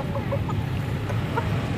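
A fighting rooster of the magon breed clucks softly and repeatedly after a bath and a herbal tonic drink, close by, in steady low murmurs over a dense rustling background.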